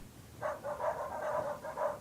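Dogs bark in a puppy rescue video game, a quick series of about six moderately loud, evenly spaced yaps over a quiet background.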